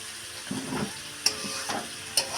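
Meat is stirred and fried in a pan, a low sizzle under scraping spatula strokes with two sharp clinks of metal against the pan.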